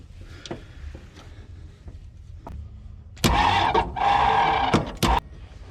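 An old project car's engine cranks repeatedly without catching, with several short starter bursts around a couple of longer grinding cranks, fairly close and with no speech.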